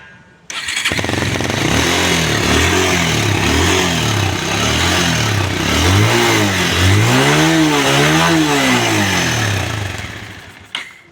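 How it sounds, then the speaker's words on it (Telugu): A Bajaj Pulsar 220 motorcycle fitted with a modified silencer starts up and idles loudly nearby, then gets a series of rising, falling revs that grow stronger toward the end before it cuts off. "ఒకసారి బైక్ అయితే స్టార్ట్ అయితే చేసి చూసుకుందాం మనం"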